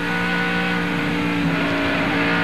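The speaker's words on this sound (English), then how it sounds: "If you heard the throttle there, if you got to get out of the gas coming through that tunnel turn" NASCAR race car engine at Pocono Raceway during the 2001 Pennsylvania 500, a steady loud droning roar with sustained tonal engine harmonics that shift slightly as the throttle changes through the tunnel turn.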